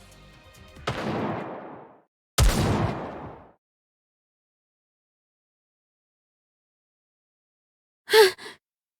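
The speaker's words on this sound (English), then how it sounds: "Those gunshots." Gunshots in the video game NIKKE: two loud, booming blasts a second apart, each trailing off in a long echo, followed by silence and then a brief gasp-like vocal sound.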